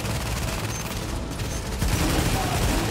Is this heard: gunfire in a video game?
yes